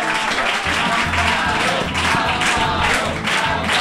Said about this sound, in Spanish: Un aplauso, sí, Amparo, ven.